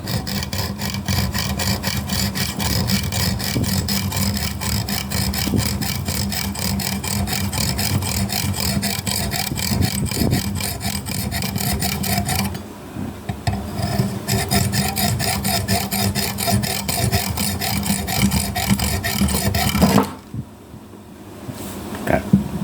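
A steady, rasping saw grinds back and forth through a stone in even strokes, pausing briefly midway and then stopping near the end.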